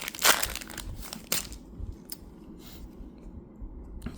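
A foil pack of sports cards is torn open up close with crisp crinkling and ripping bursts that settle into lighter rustles and soft crackles.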